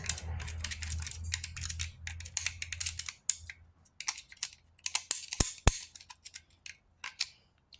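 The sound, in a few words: small screwdriver scraping dirt off crankcase metal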